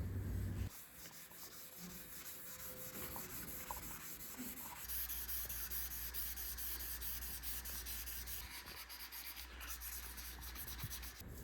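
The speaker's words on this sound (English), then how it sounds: "having sanded this down, starting actually with 1200" Fine-grit sandpaper, starting at 1200 grit, rubs across the painted finish of a custom-built guitar in a steady, continuous scrubbing that runs close and fairly quiet throughout, with no one talking.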